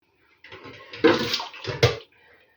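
Hot water is poured from a kettle into glass jars packed with pickled cucumbers, two close pouring bursts splashing and gurgling into the jars in a quiet kitchen.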